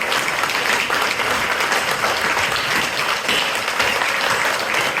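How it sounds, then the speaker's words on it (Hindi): An audience at a Savarkar lecture in Ipswich, England applauds with a dense, continuous clapping that stays steady and fairly loud for the whole stretch. "तालियां रुकनी नहीं चाहिए,"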